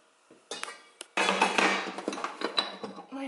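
Cutlery clatters and clinks as it is handled in a kitchen drawer during a spring clean: a few sharp knocks, then a sustained metallic rattle with scattered clinks, close by and with no talk.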